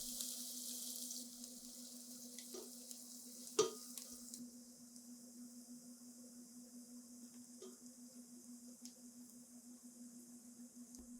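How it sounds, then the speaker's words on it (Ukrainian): Onions sizzle in hot oil with a steady hiss, broken by a sharp clink of a utensil stirring the pan partway through. "Додайте цибулю і обсмажуйте часто помішуючи близько 5 хвилин до м'якості."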